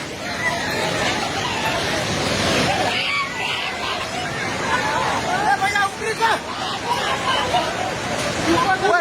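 Loud, constant roar of a fast-flowing flooded river close by in Nepal, with several voices calling and chattering over the rushing torrent.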